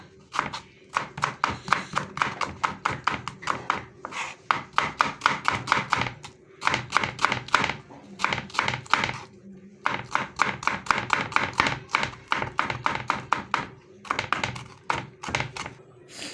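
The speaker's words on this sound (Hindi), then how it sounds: "2 अदद प्याज जो है वो मैं उनकी कटिंग कर रहा हूँ, जैसे कि आप देख सकते हैं।" Knife chopping two onions on a cutting board, fast rhythmic bursts of crisp knocks in groups of several seconds separated by short pauses, close and clear with no talk over it.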